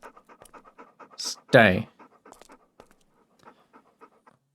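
A dog pants in quick rhythmic huffs in the Stormworks video game, a steady near panting with one louder burst, while a person says a word.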